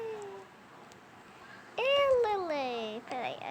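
Cartoon cat meowing in a Toca Boca mobile game, a short faint mew followed by two louder, drawn-out rising-and-falling meows close up, with no talking.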